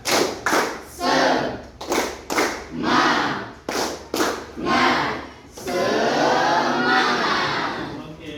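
A group claps together in a quick patterned rhythm, several short bursts followed by a longer stretch of sustained clapping and cheering.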